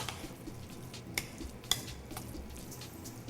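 Spoon stirring cheese into a wild mushroom and edamame risotto in a pan: quiet, soft scraping with two distinct clinks of a utensil against the pan, and no talking.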